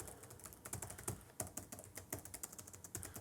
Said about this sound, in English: let me try out the keyboard just for kind of a feel